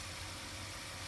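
Mazda Miata engine starting up after sitting unused, giving a brief, dense mechanical rumble close by with steady vibration and no voices.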